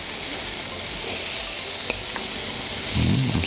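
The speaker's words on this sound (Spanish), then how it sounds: "Vamos a colocar toda la cebolla." White onion sizzling in a pan while a roast lamb dish is prepared: a loud, continuous close frying hiss with a couple of faint clicks, and no voices.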